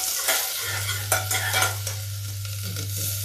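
Onions fry over slow heat for a ridge gourd curry, a steady soft sizzle with a low hum beneath and several scraping stirs of a spoon against the pan, close and fairly quiet with no talking.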